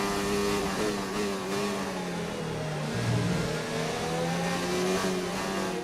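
A Formula 1 car in a racing video game accelerates out of the pits, its high-pitched engine whining steadily and rising through the gears, loud and close throughout with no talk.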